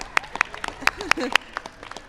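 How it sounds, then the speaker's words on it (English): Children applauding on the White House South Lawn at a sports clinic, a few sparse, distinct claps mixed with excited voices and cheering close by. "So give yourselves a round of applause."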